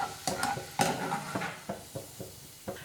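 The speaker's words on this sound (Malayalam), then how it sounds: "വെളുത്തുള്ളിയും ഒന്ന് ക്രിസ്പി ആയിട്ട് വരുന്ന വരെ ഫ്രൈ ചെയ്തെടുക്കാം കേട്ടോ." Garlic frying until crisp in hot oil for Kerala-style mixture, with a steady sizzle broken by several sharp scraping and scooping clatters of a utensil against the pan.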